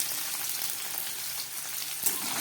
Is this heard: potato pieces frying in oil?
yes